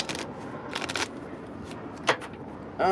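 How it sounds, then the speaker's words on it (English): Playing cards are shuffled in a few quick riffling bursts with short pauses between, close by, during a card reading. "We are going to go ahead first with shuffling the playing cards."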